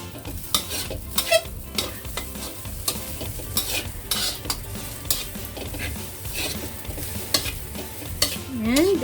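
Egg fried rice with sausage and vegetables is stirred in a pan as spring onion garnish goes in. Close, rhythmic scraping and clinking of a utensil against the pan sits over a continuous soft sizzle.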